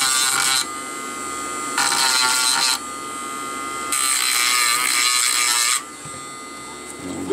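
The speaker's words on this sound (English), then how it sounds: "Be prepared to sand like crazy with this method." A sponge sanding stick scrubs hardened super glue and baking powder gap filler in bursts of fast back-and-forth rasping, three loud sanding passes separated by quieter pauses over a low background buzz.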